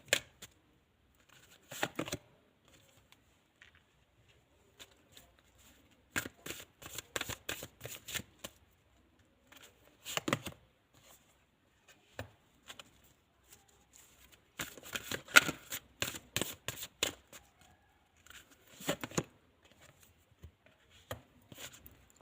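Tarot cards shuffled by hand in several separate bursts of rapid, crisp riffling clicks, close and clear, with quiet pauses between rounds.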